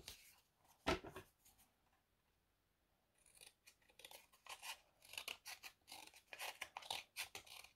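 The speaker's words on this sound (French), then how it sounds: "c'est mon ciseau coupe tout" Scissors snip once sharply, then after a quiet pause make a series of rapid crisp cuts through paper, close by.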